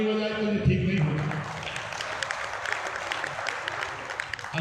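An audience applauding for founder Atul Mishra at a Kesariya Hindu Vahini event, a broad wash of clapping that swells and holds, with a voice speaking over the start.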